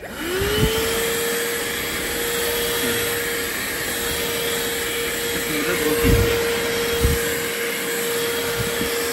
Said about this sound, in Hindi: यहाँ पर भी ये वैक्यूम क्लीनर काफ़ी बढ़िया तरीके से साफ़ कर देता है।